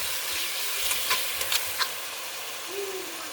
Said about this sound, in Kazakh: жақсылап қуырып аламыз